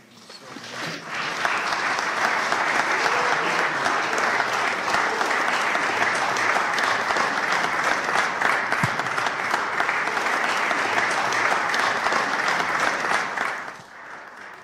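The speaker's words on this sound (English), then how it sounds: "Give her a wonderful hand clap." Loud, sustained audience applause at an interfaith conference, a dense wash of hand claps that swells in quickly, holds steady for about twelve seconds, then trails off at the end.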